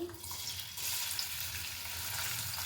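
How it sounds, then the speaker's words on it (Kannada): Onions drop into a well-heated tava for egg dum biryani and start frying. A steady, close sizzle and crackle holds throughout with slight stirring texture. "ಇದು ತವ ಚೆನ್ನಾಗಿ ಕಾದಿದೆ ನೋಡಿ ಈರುಳ್ಳಿ ಹಾಕೊತಾ ಇದ್ದೀನಿ"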